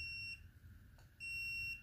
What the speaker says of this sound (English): simple beep, just to get your dog's attention.